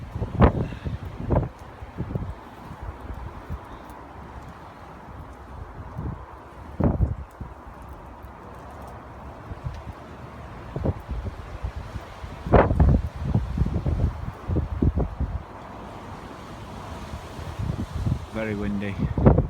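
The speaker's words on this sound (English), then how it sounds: "Very windy, and it's a cold wind too." Cold wind blowing steadily at a winter camp in minus five degree weather, a broad rumbling roar buffeting the microphone, swelling into a few stronger gusts.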